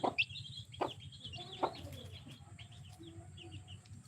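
A nearby hen gives a few short clucks and low throaty murmurs, with faint chirps from a chick over a soft background hum and no speech.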